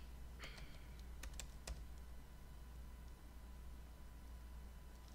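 Computer keyboard typing on a Raspberry Pi setup, a few quick clicks in the first two seconds, then quieter sparse taps over a steady low hum.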